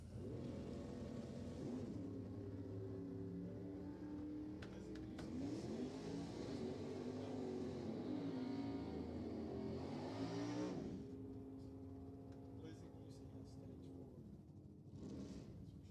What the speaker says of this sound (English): 572 big block powered 67 Camaro